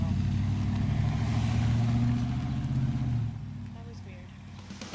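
Car passing nearby, a loud low engine rumble holding steady for about three seconds before fading as it moves away.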